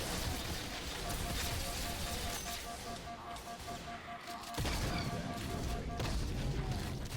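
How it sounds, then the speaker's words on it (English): Shotgun blasts from a Halo weapons mod of the game Doom, loud, dense impacts layered over constant game noise and a steady tone, with a heavier burst partway through. "You can see here the shotgun doing its work up close."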